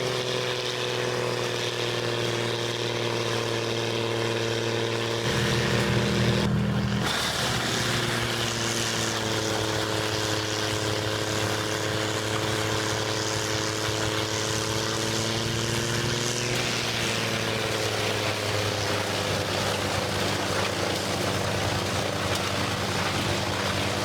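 An NHS 450 wood chipper paired with a Vermeer machine shreds trees in farm country, a loud sustained engine drone with a steady hum and shifting load, a brief deeper surge near the start of the run.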